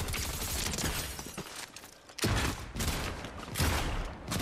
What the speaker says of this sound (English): I'm getting peppered by a turret.